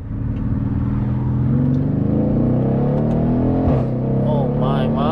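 A Mercedes ML63 AMG with the M157 engine and a downpipe accelerates hard in manual mode from inside the cabin, a loud, deep, steady engine roar rising in pitch with no talk over it.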